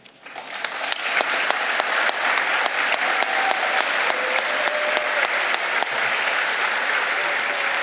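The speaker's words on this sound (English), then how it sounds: "So stand so we can applaud you" An audience applauds the new advisors at the Directing Change 2024 event, building quickly into steady, dense clapping that carries on evenly, with faint murmurs underneath.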